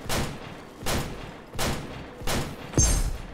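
Gunfire in the VR shooter game Crystal Raiders: four evenly spaced bursts of shots roughly every three quarters of a second, followed by a sharper, heavier blast at the end.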